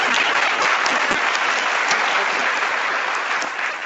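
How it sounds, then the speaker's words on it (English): Loud, dense applause from a large graduation audience at a magnet high school ceremony fills the space steadily, fading slightly toward the end. "Round of applause."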